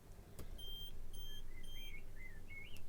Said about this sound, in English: those little beeps there from the Arduino